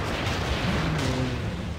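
Booming cannon fire in World of Warcraft's Deadmines dungeon, a dense continuous barrage of low rumbling blasts filling the whole stretch with no pause.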